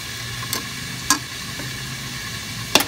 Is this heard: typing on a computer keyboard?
no